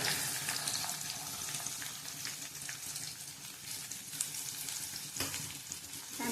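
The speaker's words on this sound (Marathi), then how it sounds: "चांगला तेलात भाजून घेऊया आधी।" Onion, garlic, curry leaves and a green chilli fry in oil in a pan, giving a steady close sizzle and crackle throughout with faint stirring and no voices.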